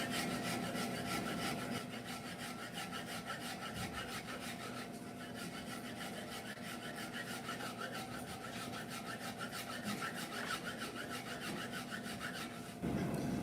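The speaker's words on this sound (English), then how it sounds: "When sawing as well, you want to make sure you're sawing from both sides," Japanese hand saw cutting wood for a kanawa tsugi joint, fast even back-and-forth rasping strokes continuing steadily and fairly close, with no talk.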